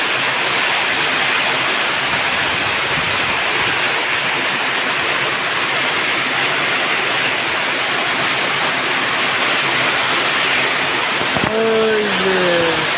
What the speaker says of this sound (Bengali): অনেক বৃষ্টি, সব ডুবে যাচ্ছে।